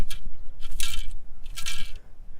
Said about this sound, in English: That is the sound of a beautiful fresh quarter.